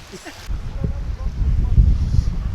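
Wind rumbles and buffets against the microphone on Fraser Island, Australia, a low, rough roar that grows stronger after the first moment and stays steady.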